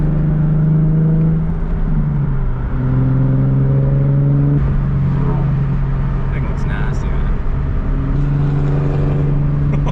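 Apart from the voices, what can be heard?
Mercedes C63 AMG car engine revving while driving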